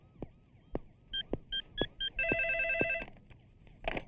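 A telephone rings in repeated electronic bursts, first short beeps then a longer warbling trill, with thumps and muffled voices underneath.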